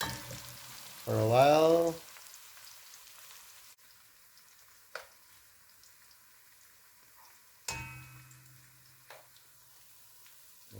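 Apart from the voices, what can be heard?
catfish curry ingredients frying in a pan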